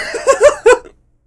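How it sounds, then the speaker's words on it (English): A short burst of a few coughs from one voice, close and loud, with a rhythm like a cough or a stifled laugh, playing out in the Pavlov VR game and then falling silent. "Cough."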